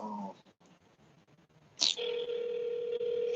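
Telephone dial tone heard while placing a call, a steady loud tone starting after a click and holding to the end, following a quieter stretch of faint background noise.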